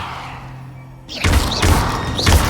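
A Levioso spell cast in Hogwarts Legacy, a sudden whooshing magical burst followed by a series of heavy thuds and impacts repeating in quick succession, loud and close after a quiet lead-in.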